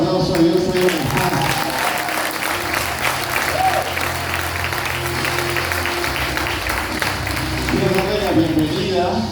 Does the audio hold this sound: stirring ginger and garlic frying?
no